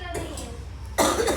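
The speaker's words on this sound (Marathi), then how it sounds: "बाळाला थोडासा खोकला आहे" A baby coughs, two or three short bursts close to the microphone with a low hum underneath.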